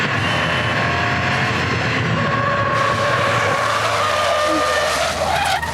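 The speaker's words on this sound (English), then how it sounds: "Sliding the car at even the slightest sign of a corner, he pushes the boundaries of the track." A Subaru STI on winter tires skids through a track corner during a time-attack lap, tires squealing over a steady engine roar, loud and continuous for several seconds.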